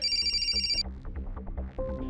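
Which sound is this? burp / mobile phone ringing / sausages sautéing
mobile phone ringing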